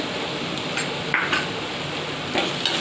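A chili-garlic paste sizzles steadily in hot oil while a utensil scrapes and taps the pan a few times; no one speaks.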